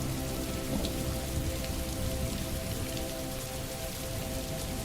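Steady rain patters on leafy branches in a continuous, even wash of dense drops with no gaps, alone and close.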